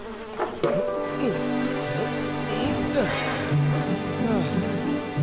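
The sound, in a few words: bees buzzing near a honeycomb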